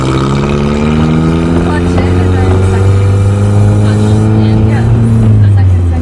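A manual car's engine revs up as the driver gives it gas on a learner drive, its loud pitch climbing steadily, dipping briefly and rising again, close and continuous.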